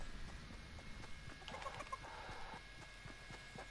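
A chicken in the Fortnite video game clucks in quiet, rapid, irregular bursts, faint and steady throughout over soft game background noise.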